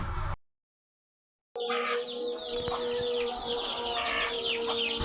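After a brief gap of silence, hens cluck and chatter close by inside a chicken coop in a busy, overlapping chorus that carries on steadily.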